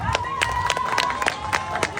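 Audience at a Manila gay pageant's national costume round clapping and cheering, a fairly quiet, steady patter of applause with scattered shouts and a faint tone in the background.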